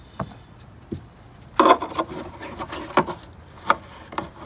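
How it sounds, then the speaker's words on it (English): Plastic piece being pulled from a 2008 Dodge Nitro tail light assembly: scattered soft knocks and scraping rubs, with one louder rasping pull in the middle and a few sharp clicks, close and alone. "So that's how you pull those out."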